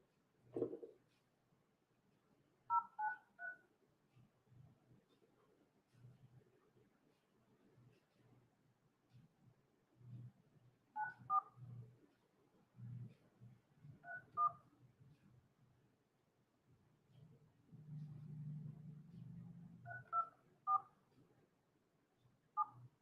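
Phone keypad tones beep in short, spaced clusters as a number is dialed, faint and close, with low background rustling and handling noise between the presses.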